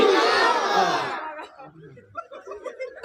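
A crowd at a Friday religious gathering roars a loud, sustained shout in answer to a Takbir chant, then fades into scattered murmurs and chatter.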